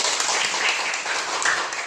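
A classroom of students clapping for a classmate, a brisk, fairly close patter of many hands that holds steady throughout.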